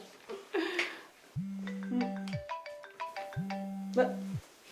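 A mobile phone rings with a melodic ringtone for an incoming call, two long tonal rings with a bright run of notes between them, while people talk nearby.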